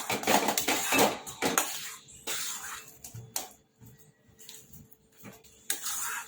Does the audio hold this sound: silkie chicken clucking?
no